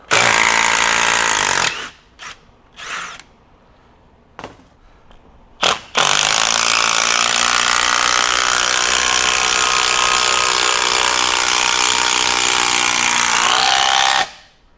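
Bosch Freak GDX18V-1860C cordless impact driver driving screws, starting with a few short hammering bursts, then one long continuous rattling impact run lasting about eight seconds, loud and close.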